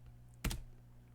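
A brief cluster of keystrokes on a computer keyboard while folder commands are typed in a command prompt, one quick clatter against a steady low hum.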